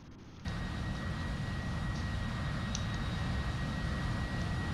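An AV-8B Harrier's jet engine running at full thrust in a DCS flight simulator, a steady, loud broadband roar with a faint high whine that kicks in abruptly after a short quieter moment and holds constant throughout, with no talk.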